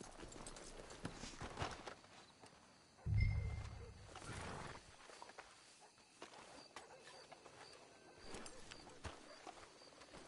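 Horses clip-clop at a walking pace in Red Dead Redemption 2, hooves thudding faintly amid outdoor ambience, with one brief heavy low thump and scattered wild-animal background noise.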